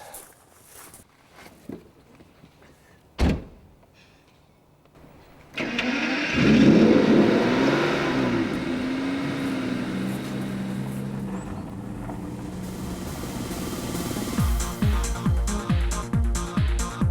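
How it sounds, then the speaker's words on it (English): A car engine starts with a loud catch, then revs up and holds a rising drone while being driven, followed by a series of rhythmic pulsing bursts near the end. "The temptation is that as you reach high revs, to ease off the gas a little bit to help it change gear as if it was an automatic."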